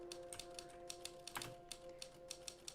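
A typewriter in the video game The Novelist clacks in quick, uneven keystrokes, quiet and close, over a faint steady hum, with a single heavier thunk partway through.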